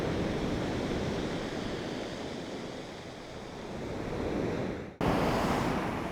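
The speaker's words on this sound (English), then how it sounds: "Look how angry the sea is." Rough sea waves crash and surge along a rocky coast with sea stacks, a loud, continuous roar that swells and recedes, then cuts abruptly and returns slightly brighter.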